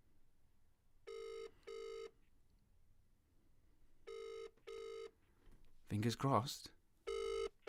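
Phone ringing on an outgoing call, a double-pulse ringback tone that repeats several times, clear and close, with a brief spoken remark between rings.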